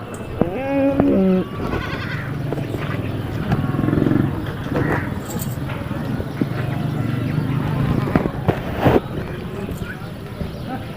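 Goats bleating at a crowded livestock market, with a few close, quavering bleats early on over a busy din of chatter and trading voices, and animal calls scattered through the noise.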